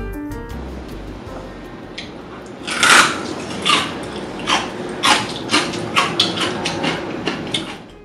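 Crispy pressure-cooked pork belly is bitten and chewed: a loud sharp crunch, then a series of rhythmic crackling chews that grow gradually softer, close up.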